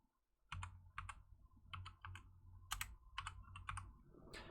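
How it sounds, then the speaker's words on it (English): Mechanical keyboard typing in quick clicky bursts with short pauses, close and clear, no voices. "Enjoy the sound of my mechanical keyboard, it's beautiful"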